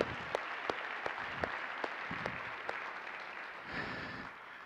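Applause from a seminar audience, a broad crowd clapping steadily with several loud individual claps sounding close in a loose rhythm, then tapering off.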